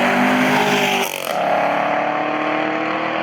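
A loud 2018 Camaro SS 1LE engine roars at high revs, dips briefly as a gear shifts, then pulls hard again, close and continuous.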